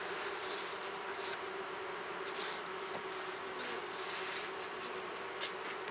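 Honey bees buzz steadily around an open hive during an inspection, a dense, continuous droning swarm close by with no talk over it.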